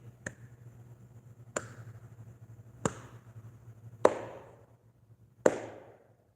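A slow clap: five sharp, separate hand claps spaced evenly about a second and a half apart, each ringing briefly in a quiet room, the last two louder.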